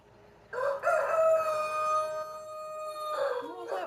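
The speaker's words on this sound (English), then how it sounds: "That's the rooster." A rooster crows once up close at a small home with chickens and bunnies, a loud, sustained cock-a-doodle-doo with strained harmonics that swells and trails off over a few seconds, standing clearly above quiet background.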